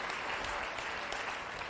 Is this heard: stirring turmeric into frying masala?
no